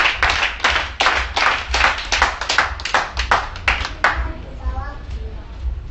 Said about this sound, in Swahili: Nisikie makofi kwa mtu mwenye furaha kwanza